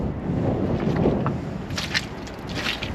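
Wind gusting outdoors in a wood yard, a steady rumbling rush buffeting close with a few faint higher rustles and knocks toward the end.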